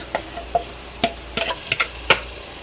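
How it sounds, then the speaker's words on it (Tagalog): Ground pork going into a pan of sizzling aromatics: a low sizzle underneath sharp spatula taps and scrapes, about ten distinct clicks spread irregularly, close up, no voices. "that's the time we add the ground pork"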